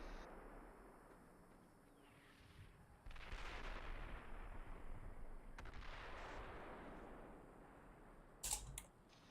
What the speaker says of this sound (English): After that mortar strike, ceasefire on Objective Garden